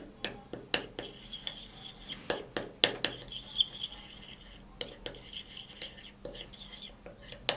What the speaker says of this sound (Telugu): ఇప్పుడు దీన్ని మిక్స్ చేసుకుందాం.